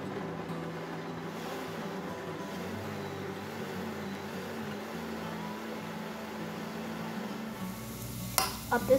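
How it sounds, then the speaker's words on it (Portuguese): Garlic browning in a pan while homemade tomato sauce is being made, giving a steady, close sizzle with stirring and some soft scraping throughout, and no talking. "vou dourar um pouco de alho"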